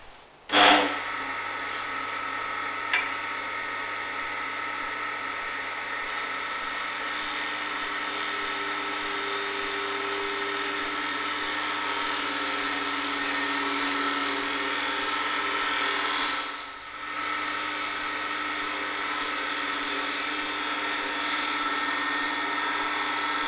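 A wood lathe cuts with a specialist turning tool presented at a low angle for a finer cut, giving a steady, close whining tone that runs for over twenty seconds, with a brief dip partway through.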